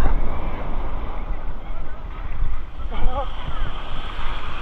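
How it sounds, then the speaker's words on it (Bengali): Sea waves rolling in and breaking at Puri beach, a steady broadband wash of surf under wind noise, rising in surges around the middle as waves come ashore, with faint voices in the background. "দেখো ঢেউ আসছে, ঢেউ আসছে, ঢেউ আসছে।"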